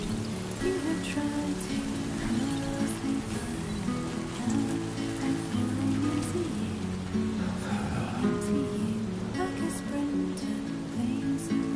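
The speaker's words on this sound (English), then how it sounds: "Just sit tight, try to wait out the rain." Steady rainfall in the video game Death Stranding 2, a constant soft patter and hiss of drops on surfaces, even and unbroken at moderate loudness throughout.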